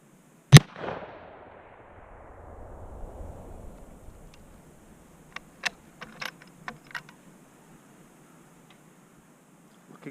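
A single sharp, loud crack from a Remington Model 788 rifle in 6mm, fired outdoors, echoing away over a couple of seconds, followed by scattered faint mechanical clicks of the action being worked.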